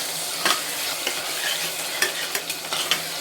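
A spoon stirs a prawn biryani mixture with yogurt in a pot, giving soft scraping and clinking strokes at an irregular pace over a steady sizzle, close and without talk.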